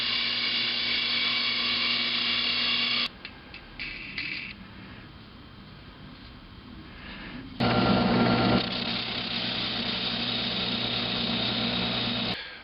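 Drill driving a 2-inch hole saw through MDF, a loud steady high-pitched grinding whine that stops briefly with scattered clatter in between, then resumes at full strength and runs to the end.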